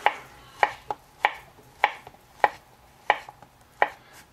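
A Spyderco Paramilitary 2 knife chopping through banana slices on a board, a sharp crisp tap repeated about a dozen times in an uneven rhythm, close and clear with nothing else heard.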